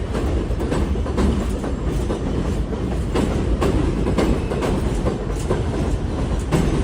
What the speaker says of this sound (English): There goes the New York City train. I think this is the 5.